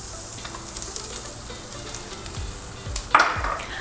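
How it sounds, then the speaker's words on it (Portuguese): Carrots for a braise sizzle steadily in a hot pan still greasy from searing meat, with soft stirring scrapes and a sharper clatter of utensil against the pan near the end. "Essa mesma panela, ainda quente, a gente vai começar a acrescentar os aromáticos."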